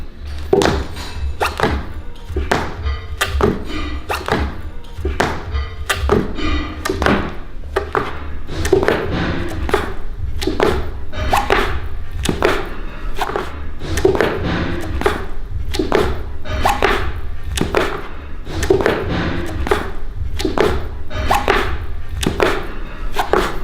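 Footsteps during a football warm-up drill, heard as a long, even train of dull thuds close by that keep a steady rhythm throughout.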